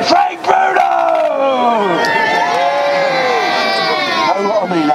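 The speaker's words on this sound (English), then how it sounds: "let's have a nice big cheer all the way from London, the one, the only Frank Bruno" Crowd at a boxing contest cheering and shouting for Frank Bruno, a loud sustained roar of many voices with whoops rising and falling, close and dense throughout.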